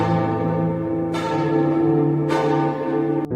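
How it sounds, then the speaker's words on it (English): A church bell strikes three times at a steady pace, each deep clang ringing on and overlapping the next, loud and close. "The church bell rings. Once, twice, 3 times, but no one is pulling the rope"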